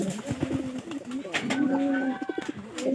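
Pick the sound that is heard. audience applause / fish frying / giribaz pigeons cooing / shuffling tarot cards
giribaz pigeons cooing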